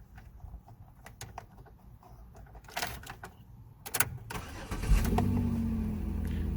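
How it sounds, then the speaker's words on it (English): A 2007 Pontiac Torrent started from inside the cabin: clicks and key sounds, a brief cranking, then the engine catches and settles into a deep, throaty idle with a growling exhaust. "jump in the car and we'll give it a start up"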